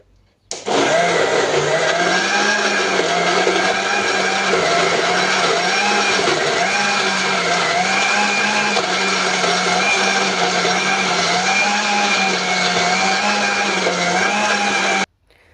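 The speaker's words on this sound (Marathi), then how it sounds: "आणि हे छान असं आता फिरवून घ्यायचं आहे मिक्सरला।" A kitchen mixer blender whirs steadily for about fifteen seconds, blending mixed fruit with milk into a thick sugar-free smoothie, with a loud, even motor drone that starts abruptly and cuts off at the end.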